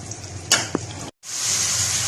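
Chicken sizzles and fries in a pan with a steady hiss, a couple of brief clinks, a momentary cutout, then louder crackling oil.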